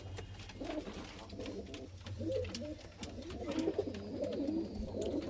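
Kept Giribaz pigeons of the Kalshira and Fulshira types coo softly in their loft, with repeated low burbling calls that overlap and build toward the end, plus faint background clatter.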